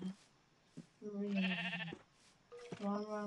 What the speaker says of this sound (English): Sheep, what are you doing there?